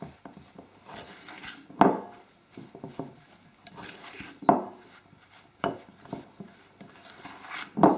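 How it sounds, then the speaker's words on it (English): Butter being mixed in a bowl for fairy cake batter, a spoon scraping and knocking against the bowl in irregular strokes with sharper clacks every couple of seconds. "Just going to get everything kind of a little bit mixed in."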